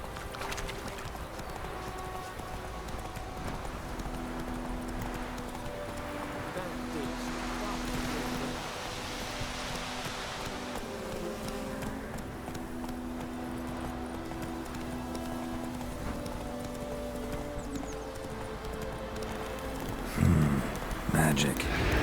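Roach the horse galloping in The Witcher 3 on Nintendo Switch, rhythmic hoofbeats pounding steadily under a droning game music bed, with a clattering burst near the end.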